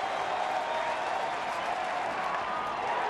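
A sellout crowd of more than 44,000 baseball fans roars and applauds at the Tigers' home opener in Detroit, a loud, dense wash of cheering that holds steady throughout.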